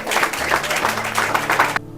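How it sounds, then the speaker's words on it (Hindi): Audience applause marking Navy Day at a morning meditation gathering, a dense steady wash of many hands clapping for about two seconds before stopping abruptly. "आज सबके लिए तालियां हो जाए"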